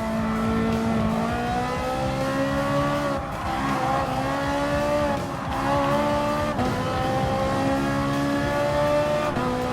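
Race car at Monza in Gran Turismo Sport, engine note droning steadily with two brief dips as it brakes and shifts down, loud and continuous throughout.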